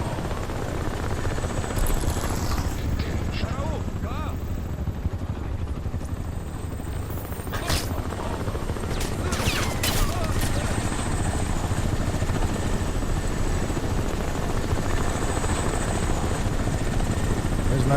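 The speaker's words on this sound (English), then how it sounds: "Sounds like we got another helicopter coming our way." A helicopter in the shooter Crysis 1 Remastered approaches with a steady, loud rotor drone throughout, joined by a few brief sharp bangs and clanks near the middle, with no speech over it.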